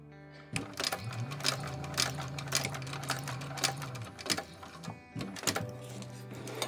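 A sewing machine runs a basting stitch on a handbag exterior, a loud steady whirring hum with rapid needle clatter that stops and restarts briefly near the end.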